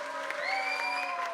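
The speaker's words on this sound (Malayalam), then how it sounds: "അതുകൊണ്ട് ഒരു വലിയ കയ്യടി ഒന്നുകൂടി സോജോയ്ക്ക് കൊടുക്കണം പ്ലീസ്" An audience claps for Sojo after an Onam skit, steady applause across the short stretch with a sustained tonal hum or whistle running underneath.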